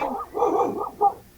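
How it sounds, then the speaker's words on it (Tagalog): A dog barks a few times nearby, short yelping barks in quick succession over a quiet indoor background. "Tumahol yung aso."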